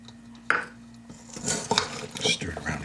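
Beef short ribs coated in soy sauce and flour are stirred in a dish, with a sharp clink followed by a run of soft scraping and clattering of utensil against the dish.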